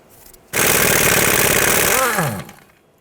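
Loud broadband power tool burst driving out a bolt with a 15mm socket on a 2013-2019 Ford Escape front strut and knuckle, running steadily for about two seconds, then winding down with a falling whine before it stops.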